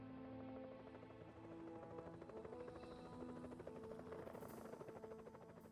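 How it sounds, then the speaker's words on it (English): A helicopter arrives in the video game Evil Genius, a steady rotor thrum with a rhythmic chop under a faint game soundscape, holding at an even moderate level throughout, with no voices. "There's a chopper."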